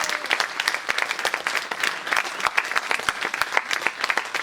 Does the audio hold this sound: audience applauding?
yes